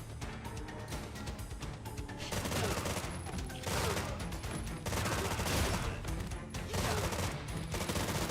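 Video game gunfire, continuous dense bursts of rapid shots that stay loud and close throughout, with a slight rise in intensity partway through.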